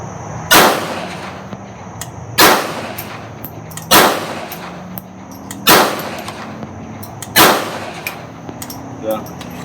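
Unsuppressed .22 rifle shots using cheap Federal bulk ammunition: six sharp, loud reports spaced roughly one and a half seconds apart, each with a short ringing decay, heard over quiet outdoor range ambience.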